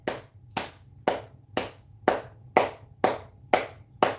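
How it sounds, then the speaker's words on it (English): Nine evenly spaced, sharp hand claps from a group exercise, close and clear, about one every half second, with no talking. "We're gonna start from the clapping."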